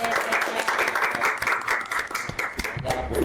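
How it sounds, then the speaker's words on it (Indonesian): An audience at a campus talk-show event claps in dense, sustained applause throughout, loud and close, with faint voices mixed in. "Tepuk tangan dong dulu."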